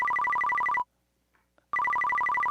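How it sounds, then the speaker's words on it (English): A cell phone rings at a craft demonstration with a loud, rapid electronic trilling pattern, cut off by a brief near-silent pause, then resuming just as loud. "Who left their cell phone on?"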